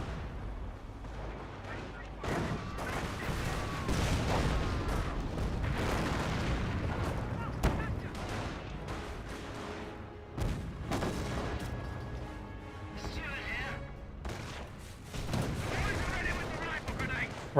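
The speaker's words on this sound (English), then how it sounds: "Incendiary mortar dropped on top of the VP" Incendiary mortar shells and other battlefield fire in Company of Heroes, a World War II strategy game, pound continuously as dense booming blasts and crackling explosions with scattered sharper gunshots, loud and sustained throughout.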